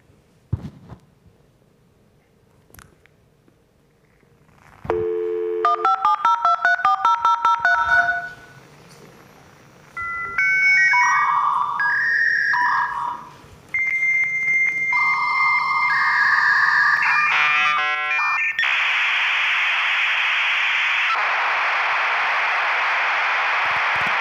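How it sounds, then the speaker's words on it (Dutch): A 1990s dial-up internet modem connects, opening with dial tones and a rapid burst of DTMF digits, then screeching handshake tones, warbling chirps and a loud hissing static rush that fills the last stretch, heard alone at close range. "En weet u nog hoe het internet toen klonk?"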